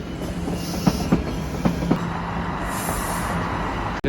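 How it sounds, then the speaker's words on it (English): A Toronto subway train rolls past a train yard at night, giving a steady rail rumble with a few sharp clicks of wheels crossing joints, heard close and alone with no talk. "The subway going off."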